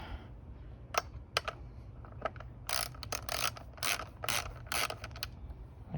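Bolts are tightened on a headlight guard bracket of a Honda Trail CT125 motorcycle, with quick ratcheting clicks in short bursts near the tool and a faint low rumble underneath.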